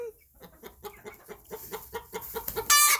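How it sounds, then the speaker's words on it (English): Two young chickens outdoors with a mother duck give a rapid run of short, close clucks and peeps in a steady rhythm, ending in a sudden louder shrill burst. "So here comes Mama Duck with her two baby chickens."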